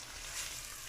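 Chopped garlic and ginger paste frying in a hot pan for khichuri, giving a brief, soft, steady sizzle with no voices.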